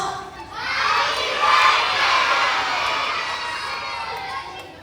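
A large crowd of energetic children shouts and cheers together at a birthday gathering, a loud sustained roar that swells after the first second and holds steady to the end, with no distinct speech.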